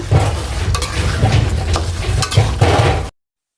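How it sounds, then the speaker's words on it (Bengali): Achar pickle being stirred in a pan, with an ongoing sizzle under repeated scraping strokes of a spoon, close and fairly loud, then cutting off abruptly. "নেড়ে নেড়ে দিচ্ছি তো আমার আচারটা হয়ে যাওয়ার মুখে"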